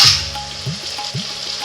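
Taro roots dropped into hot oil after onions and ginger-garlic paste have fried, giving a steady close sizzle with a couple of brief stirring scrapes; no one speaks.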